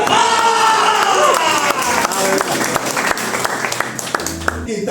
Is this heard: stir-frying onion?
no